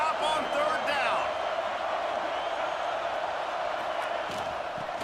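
A college football stadium crowd roars on a third-down play as the home defense tries to stop an LSU drive, a broad continuous wall of noise with a commentator talking over it.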